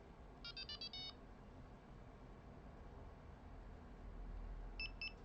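A Delkim carp-fishing bite alarm gives a quick run of high electronic pips, then two more pips a few seconds later, heard close over a steady background hiss.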